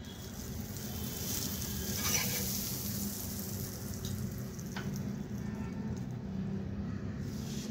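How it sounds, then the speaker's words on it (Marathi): Butter sizzles on a hot tava griddle while a chocolate toast sandwich is being cooked, giving a steady, soft frying hiss that runs unbroken throughout with no talking. "आता मी ते तवा तापत ठेवलेला आहे, थोडंसं बटर लावून घेते मी।"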